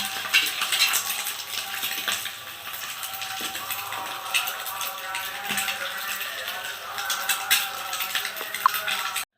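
Brinjal pieces frying in hot oil for a brinjal egg curry give a steady, close sizzle with occasional clinks and scrapes of stirring, all without talk.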